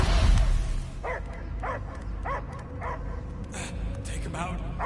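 A dog barks in Guardians of the Galaxy on PS5, a regular series of about six yapping barks at steady intervals, with speech and game sounds running alongside.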